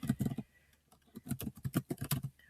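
Quick, crisp keystrokes on a Chromebook keyboard, close and clear, tapping in short irregular bursts with brief pauses between, no voice over them.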